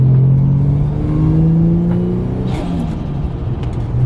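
A turbocharged Ford Falcon FG fitted with a Turboside intake, its engine droning loud and close with a steady rising rumble and whine under load, no voices.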